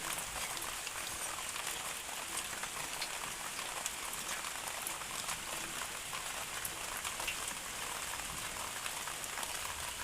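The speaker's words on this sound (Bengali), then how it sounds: "বৃষ্টি হচ্ছে" Steady rain falling over a village in the early morning, a dense, even hiss of drops on surfaces with no break or talk, close and constant throughout.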